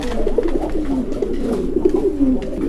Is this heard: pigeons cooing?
yes